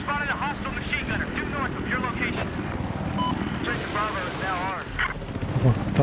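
A helicopter flies in Battlefield 4 as a continuous rotor drone beneath dense talk, with faint gunfire-like bursts mixed into the game action.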